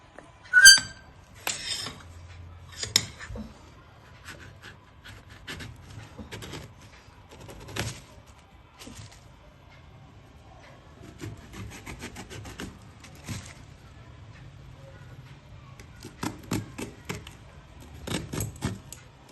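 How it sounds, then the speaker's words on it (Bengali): Raw green jackfruit is cut by hand with a blade, heard as scattered scraping and chopping strokes in irregular bursts, some louder, set against a quiet background. "মন দিয়ে কাটো দেখো আবার হাত না কাটে"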